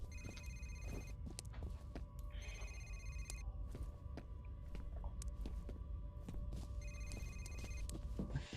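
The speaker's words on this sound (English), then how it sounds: "There's a phone ringing somewhere, and I can't find it." A telephone rings repeatedly with a trilling electronic bell inside the video game F.E.A.R., sounding in regular bursts over busy in-game ambience with footsteps and clatter.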